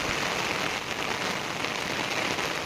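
Heavy monsoon rain pours steadily during early flooding, a dense, unbroken hiss of drops pattering on surfaces nearby with no pauses or voices.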